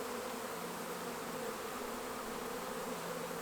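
Feral honeybees buzz densely as they are extracted from a hollow, producing a constant, close swarm drone with many overlapping wingbeats and no voices.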